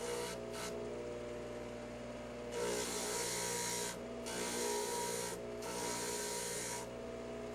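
A dental handpiece with a burr grinding away bulk from a model die, a steady high-pitched whine with short pauses between passes, close and continuous with no talk.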